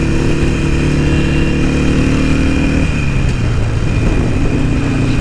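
A Harley-Davidson Sportster Roadster 1200 motorcycle is ridden gently through Ribeirão Preto. Its engine gives a close, loud, steady low rumble with a slight shift in tone partway through.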